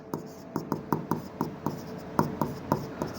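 Marker writing on a board in short, rhythmic scratchy strokes, about a dozen quick taps and squeaks at close range, with no talking.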